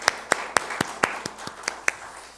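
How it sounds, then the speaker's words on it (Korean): A church congregation at a Sunday service claps in a slow, loose rhythm of about ten distinct claps, moderately close, with no talking. "우리 다시 한번 하나님께 영광의 박수를 올려드립니다"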